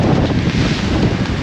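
Strong wind gusts buffeting a sailboat at sea near Amorgos, a loud, steady roar of wind across the microphone with no pauses, close and unbroken.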